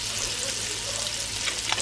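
Unsalted butter sizzling as it melts in a pot, a steady close crackling hiss with small pops and a brief stirring scrape near the end, no talk.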